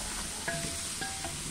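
A utensil stirs corn pasta in a large 10-litre pressure cooker pot, faint metallic scrapes and clinks over a steady background hiss of cooking.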